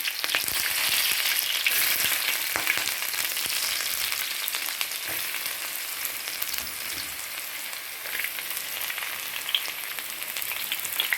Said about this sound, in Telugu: మూడు టేబుల్ స్పూన్ ఆయిల్ వేసుకున్నానండి ఇప్పుడు వెల్లుల్లిపాయలు వేయించుదామండి